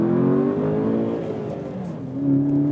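A Skoda Octavia vRS 230 sedan (2017) accelerates hard from inside the cabin, its engine note rising steadily in pitch, dipping briefly at a gear change, then climbing again, loud and continuous.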